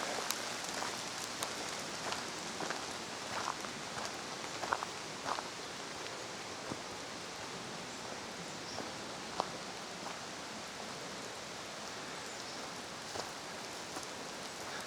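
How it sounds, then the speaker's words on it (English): Steady rain falls on water and foliage in a clearing during a hike, a constant soft hiss with scattered sharper drops and occasional faint footsteps or rustles, no voices. "Right here you can definitely see the rain coming down."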